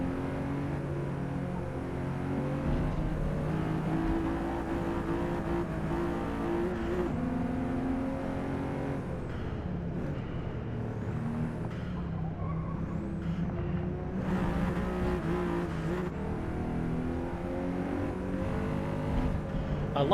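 Race car engines in Gran Turismo 7 drone steadily at moderate level, with shifting engine tones and occasional gear-change dips across a long stretch, with no speech.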